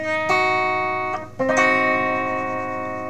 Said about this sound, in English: a diminished chord is basically a minor chord, but with a flattened fifth